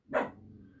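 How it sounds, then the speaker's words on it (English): A single short dog bark, sharp and fairly close, fading quickly into a faint tail in an indoor room. "Please excuse the dog."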